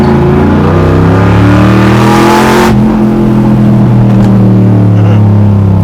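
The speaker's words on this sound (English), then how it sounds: "Definitely a different tone from the exhaust." Engine of a NASCAR-inspired 1966 Chevy Chevelle revving loudly through its exhaust, a deep steady drone that swells to a higher-pitched rev and then settles back into a throaty run, close and continuous with no talk.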